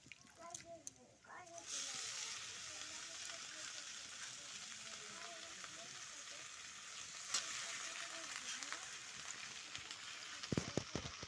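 Leafy greens frying in a pan in a home kitchen, a steady broad sizzle that starts after a short clatter and runs continuously close by, with a few sharp knocks near the end.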